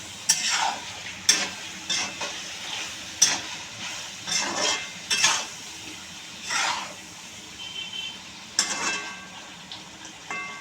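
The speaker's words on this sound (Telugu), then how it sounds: "మూత తీసి ఒకసారి బాగా కలుపుకోవాలి" Chicken liver fry being stirred in a pan, a series of sharp scraping clinks of a spoon against metal at irregular intervals over a soft background sizzle.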